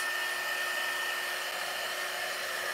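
A hair dryer blows steadily and close up, drying chalk paste on a handmade craft sign, a loud continuous whoosh with a faint whine running unbroken throughout.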